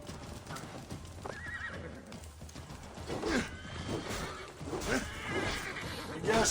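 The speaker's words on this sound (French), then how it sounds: "je suis poursuivi par un cheval, au secours" A horse whinnies loudly amid rhythmic clip-clopping hooves in Assassin's Creed Valhalla, with game-like sound effects and brief vocal sounds mixed in.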